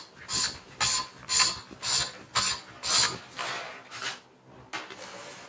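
Hand-rounding the sharp corners of split bamboo strips for a woven chair, a rhythmic rasping scrape repeating about seven times in steady strokes, close and fairly quiet with no talk.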